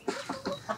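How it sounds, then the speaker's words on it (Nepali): Chickens cluck in short, evenly spaced calls while being fed, fairly faint and close, about four quick clucks with no talk. "भाइ कुखुरालाई चारा हाल्दै हुनुहुन्छ"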